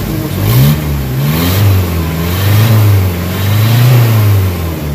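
Nissan Vanette engine with a low power and throttle delay fault revving as the throttle is pressed, rising and falling in repeated surges over a steady rumble, close and loud with no talk.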